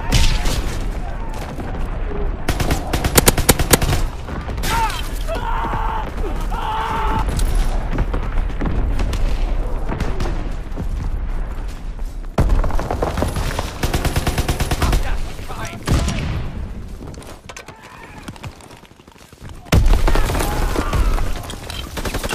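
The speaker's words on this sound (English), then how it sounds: "Incoming enemy artillery." Artillery and gunfire in the World War II video game Call of Duty WWII: loud, dense bursts of shooting and booming blasts roll on almost continuously, with occasional heavier thumps and brief lulls, and a game voice calls out in between.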